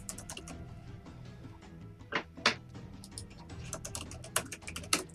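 Rapid typing on a computer keyboard, with dense, uneven clusters of close keystrokes running the whole time over a steady bed of background game music, no voice.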